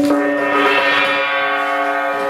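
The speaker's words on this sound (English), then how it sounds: "Perhaps you better sound the gong again here." A gong struck once indoors in a house, a loud metallic bloom of ringing tones that swells then slowly fades away, alone without voices.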